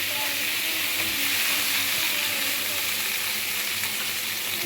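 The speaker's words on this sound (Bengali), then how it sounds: "বেঁচে রাখা কাঁচা লঙ্কা খুব ভালোভাবে লঙ্কাটাকে ভেজে নেব" Green chillies frying in a pan for a pomfret fish curry with potato and yardlong beans, a steady loud sizzle and hiss continuing throughout with no speech.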